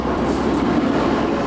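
The Silk Road Express passenger train rolls across Uzbekistan toward Nukus, a steady, loud rumble of wheels and carriage noise with faint rhythmic clatter, heard from inside and uninterrupted.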